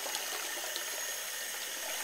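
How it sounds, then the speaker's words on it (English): A Ferguson toilet flushes with a steady, soft rush of water, a continuous hiss and gurgle running evenly throughout, fairly faint and with no voices over it. "It's starting to flush right."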